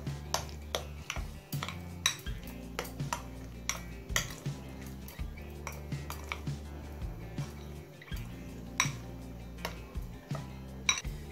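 Bitter gourd stuffing is mixed with salt and turmeric in a bowl, a close, steady series of soft squishes and repeated light clinks and taps over a low background hum, with no talking.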